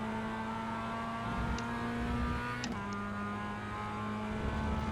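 Sustained drone of a Mazda MX-5 race car engine in a racing video game, a steady mid-pitched tone with a slight shift in pitch partway through, continuous and fairly loud with no voices.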